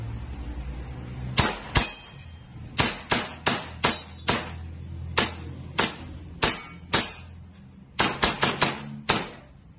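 An EMG STI JW3 airsoft pistol with a fixed outer barrel upgrade being test fired, about a dozen sharp, close metallic cracks, some single and some in quick clusters.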